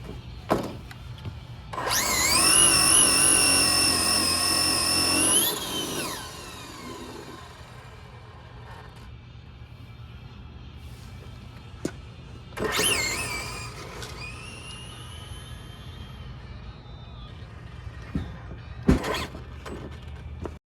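A stock Traxxas Drag Slash RC car makes a drag pass, its electric motor whining up in a rising pitch for about three seconds, then dropping away, followed later by a second brief whine, several clicks and handling noises.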